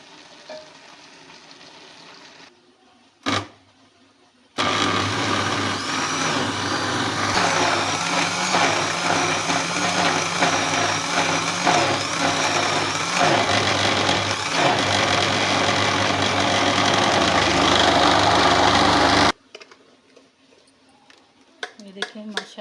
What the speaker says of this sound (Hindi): अब हम इसको हल्का सा ग्राइंड कर लेंगे, ग्राइंडर में डालेंगे और इसको हल्का सा हम ग्राइंड करेंगे।